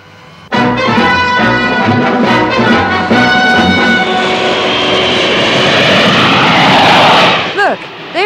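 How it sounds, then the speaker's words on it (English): A plane with a fighter escort roars overhead, a loud sustained engine drone that rises abruptly and holds for several seconds before fading, with a short descending whistling effect near the end. "there's Father's plane now. Yeah, with a fighter escort."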